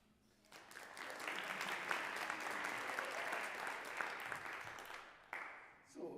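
An audience at a university jazz ensemble concert claps in a swelling burst of applause that holds steady for several seconds before fading, a voice briefly heard as it dies down.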